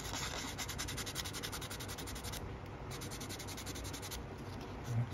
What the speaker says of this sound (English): And we're just going to jump in with our coarse, all right? And we're going to take the plastic back.